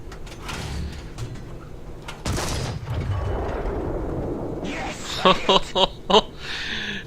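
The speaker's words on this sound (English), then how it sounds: "Let's see if we can get a shot off here." Marder III tank gun firing in a video game, a sharp boom landing mid-scene under a talking voice, followed by a rattle of short mechanical clanks as the gun reloads.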